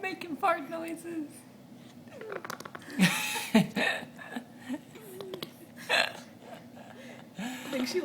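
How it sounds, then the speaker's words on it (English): A baby girl makes wet, sputtering fart noises with her mouth, several bursts scattered through the clip, up close and alternating with adults talking nearby. "You making fart noises?"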